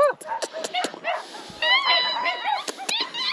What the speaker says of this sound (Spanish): Hay perros bastante por acá.